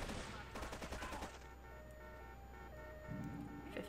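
AK-47 fire in GTA III: a rapid volley of close, loud automatic shots for about a second, then quieter game ambience with a steady background hum.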